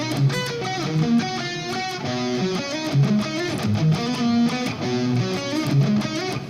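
A guitar plays a repeating melodic riff for a new song in progress. Plucked notes rise and fall in a steady looping rhythm, close and clear, without speech.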